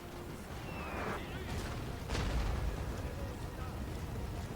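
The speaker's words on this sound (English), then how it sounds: "Those men hit by my cannonade." Cannon fire in the Napoleon-era battle game Napoleon Total War: a deep artillery boom with a rumbling tail rises over a dense, continuous din of battle, loud and close.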